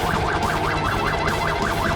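A cartoon fire truck and ambulance sound their sirens, a loud rapid rising-and-falling wail that repeats evenly without a break, with no speech.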